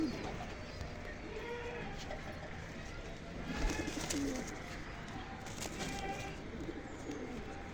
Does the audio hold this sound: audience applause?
no